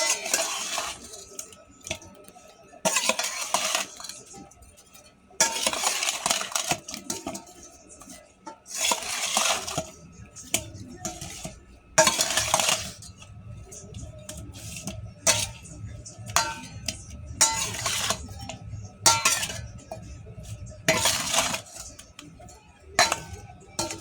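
Intermittent wet squishing and scraping as hilsa fish is mixed by hand with salt and turmeric in a bowl, in short bursts with pauses between.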